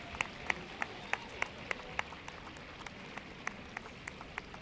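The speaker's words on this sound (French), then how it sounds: "les applaudir bien fort" Sparse, distant clapping at an archery tournament final, individual claps ringing out at a loose, regular pace over a quiet background.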